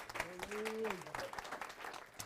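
A church congregation claps and cheers during worship, a loose spread of applause mixed with voices and a short sung or called-out phrase, fairly quiet and close.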